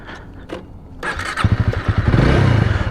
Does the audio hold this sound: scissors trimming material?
no